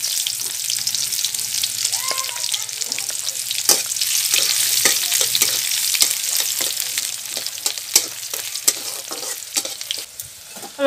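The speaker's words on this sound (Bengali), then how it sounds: "দিয়ে সুন্দর লাল লাল করে ভেজে নেব।" Crushed garlic fries in hot oil until reddish in a village kitchen, with a steady crackling sizzle broken by frequent sharp clicks and scrapes of stirring, close and continuous.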